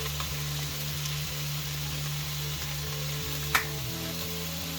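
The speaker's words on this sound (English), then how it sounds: "Stir until everything is coated and stirring occasionally until everything is heated through" Squid and potato fry-up being stirred in a pan, a steady close sizzle of frying underneath with soft scraping strokes and a single sharp knock near the end.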